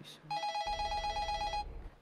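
A telephone rings in the GTA 5 video game: a steady electronic ring tone holds for over a second at moderate loudness, preceded by a short blip, with no talk over it.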